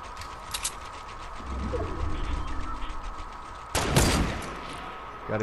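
Gunfire in the video game Fortnite, a short burst of shots and a loud crack near the end standing out over a steady background hum, mostly distant and moderately faint.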